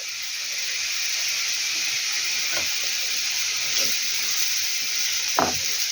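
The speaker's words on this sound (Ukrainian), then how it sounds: "І ну, так на величкому вогні буду її смажити." Constant hissing sizzle of carrots frying in oil over low heat, fairly close, with a couple of soft clinks or pops.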